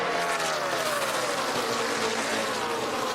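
NASCAR Truck Series race trucks roar around Chicagoland Speedway during the 2015 American Ethanol E15 225, a continuous loud engine drone with shifting pitch and no voices.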